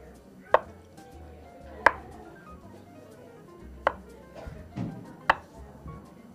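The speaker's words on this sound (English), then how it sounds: "Just slice it right out." A knife cuts through Southwest pepperjack scone dough on a board in a handful of separate, distinct chops, each a short thud against a quiet background.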